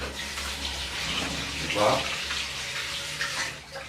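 Water from a tap pours over a child's head during a bath, a close rushing splash that swells in the middle and then eases, with a short spoken word and running water continuing underneath.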